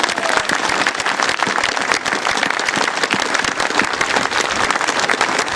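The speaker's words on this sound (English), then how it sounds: "their bravery deserves some applause" A crowd applauds at a Hen Harrier Day rally, loud sustained clapping from many hands that carries on evenly throughout without talking.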